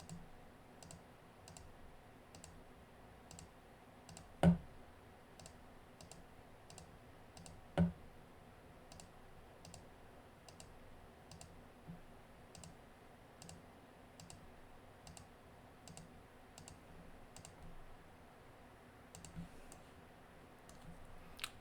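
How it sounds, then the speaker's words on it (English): Faint computer mouse clicks in PCB schematic software come in a steady series of light, close, evenly spaced clicks over a quiet background, with two louder knocks among them. "So just got to come in and click the X"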